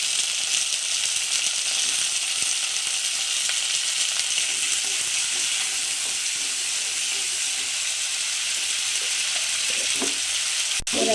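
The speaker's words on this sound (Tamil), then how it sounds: "வாடை போடுற வரைக்கும் கொஞ்சம் லேசாக ஒரு 5 நிமிஷம் வதக்குங்க" Brinjal pieces sautéing in a pan for a Nagercoil-style lunch give a steady, close frying sizzle with crackle and faint stirring scrapes, continuous throughout with no voices.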